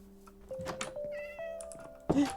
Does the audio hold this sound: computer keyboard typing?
no